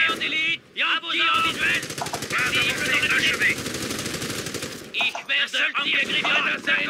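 Sustained rapid bursts of machine gun fire in Company of Heroes, loud and continuous, with a rattling rhythm and chirpy effects between volleys; speech is faintly mixed in.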